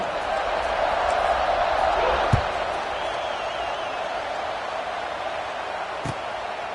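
Football stadium crowd at an NCAA game against Colorado awaiting kickoff: a broad, steady wash of crowd noise fills the clip, with a couple of sharp thuds and a broadcast commentator talking over it.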